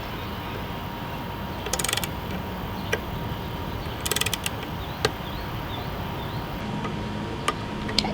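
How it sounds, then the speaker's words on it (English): A torque wrench tightening motorcycle horn bolts: two short bursts of rapid ratcheting clicks plus a few isolated ticks, close and fairly quiet, with no talking. "We're going to go ahead and get this torqued down."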